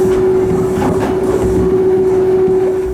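Kintetsu Yoshino Line train running between mountains and the Yoshino River toward Yamato-Kamiichi Station, a loud steady onboard rumble of wheels on rail with a sustained tonal whine and light clatter.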